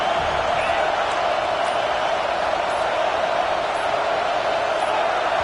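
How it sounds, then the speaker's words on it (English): A fired-up stadium crowd at a football game roars in a steady, continuous wash of cheering noise, loud and unbroken throughout, with a commentator talking over it. "It's early, but this crowd is fired up. Listen to this noise here."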